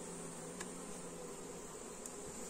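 Honey bee swarm humming steadily at a cardboard trap in a forest, a continuous close, even buzz with no talk.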